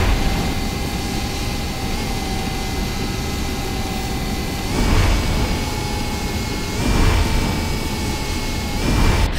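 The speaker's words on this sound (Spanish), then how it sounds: "When online, activate the turbo to go even faster. Turbo online." Racing video game engine roaring on turbo boost, a steady high whine with a sustained tone and three swelling whooshes as the speed surges.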